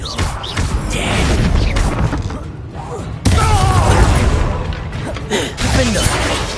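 Confringo blasting spell in Hogwarts Legacy: loud bursting, crackling impacts over continuous game combat noise, with a sharp jump in intensity midway and a character voice speaking intermittently.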